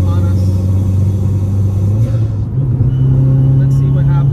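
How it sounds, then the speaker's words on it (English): A Volkswagen car passes close by with a steady low engine rumble and rising drone that shifts pitch midway, while people talk over it. "And we've got a Volkswagen on us."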